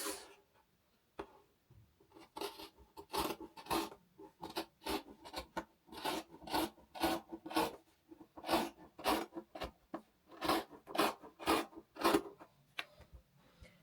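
Scissors cutting fabric along the front V-neckline of a kaftan, giving a steady run of short rasping snips and slides, close and fairly quiet, with no talking.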